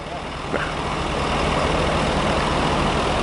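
A G30 van's 6.7 engine runs in Denver, Colorado, giving off a steady, low, rumbling drone throughout, with people talking over it.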